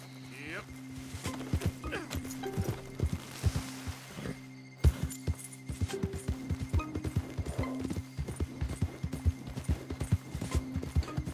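Horse hooves clip-clop in the Red Dead Redemption 2 video game, a steady run of close, distinct clopping beats with a brief pause midway, while someone talks in Portuguese over them.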